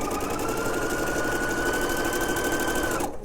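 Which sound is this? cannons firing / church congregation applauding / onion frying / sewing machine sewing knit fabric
sewing machine sewing knit fabric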